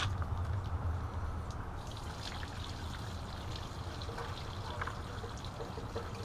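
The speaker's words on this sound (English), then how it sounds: "Keep dumping this water until it cleans out." Water is dumped out while cleaning a pond, pouring and splashing steadily in a continuous rushing stream, fairly close, with no voices.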